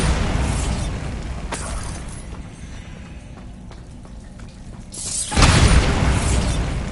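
Bombarda blasting spell explosion in Hogwarts Legacy, a loud sudden blast that bursts over a continuous roaring, rain-like background rumble and then lingers as a broad crackling wash; no talking.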